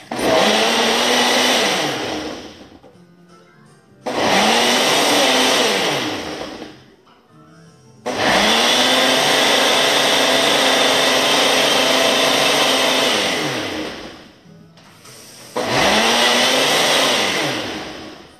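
A Ninja blender making a smoothie whirs loudly in four long bursts, each spinning up and winding down, with short quiet pauses between runs.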